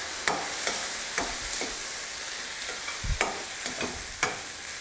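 A spatula scrapes and stirs Thai-style fried rice with soy sauce in a hot pan, giving irregular clinks and scrapes over a steady sizzle, with no voices.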